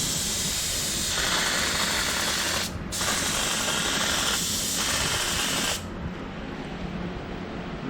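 A paint spray gun lays a second coat of black House of Kolor paint, a loud continuous hiss of spraying with two short gaps and a quick drop at the end as the trigger releases.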